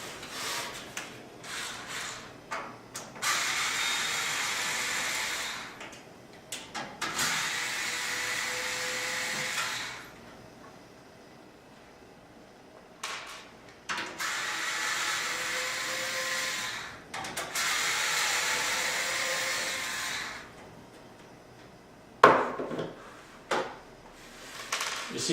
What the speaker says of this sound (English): There are 4 screws on the back we take out right here.